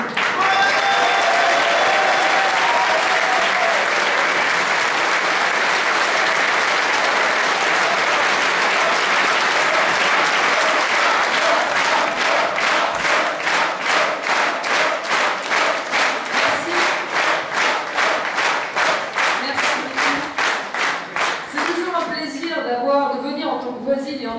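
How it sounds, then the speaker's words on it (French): Sustained crowd applause at a political rally in Tarascon, dense and loud for about twenty seconds, settling into rhythmic unison clapping before breaking up as a voice speaks at the end. "je vous demande de l'applaudir pour l'accueil"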